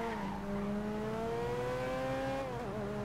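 Car engine in Grand Theft Auto V droning steadily at close range, pitch slowly rising as it accelerates, then dipping near the end, with a faint hiss of road noise and no voices.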